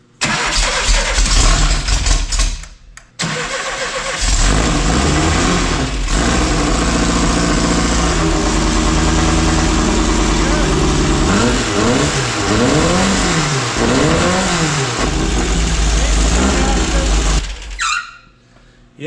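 A buggy's engine cranks briefly, then catches and keeps running loudly at a steady idle with some revving, alone at first, with voices talking over it for much of the run.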